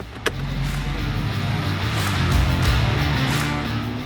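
A 2024 Ford Bronco Raptor pulls away, its engine and road rumble holding steady and close throughout, opening with a short click before the low drone settles in.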